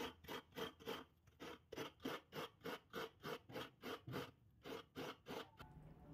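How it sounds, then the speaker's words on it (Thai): Coconut flesh is grated on a traditional rabbit-shaped scraper, giving about eighteen evenly spaced, close rasping strokes in a steady rhythm, with a brief pause before the last few, and no voices. "ขูดมะพร้าวด้วยกระต่ายค่ะ"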